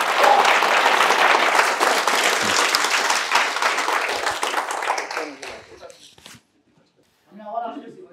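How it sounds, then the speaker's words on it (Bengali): A seminar audience at an entrepreneurship event bursts into loud, sustained applause with dense clapping for about six seconds before it fades to silence. A voice then begins speaking. "তাহলে আরেকটা হাততালি হয়ে যাক"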